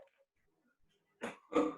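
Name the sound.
coughing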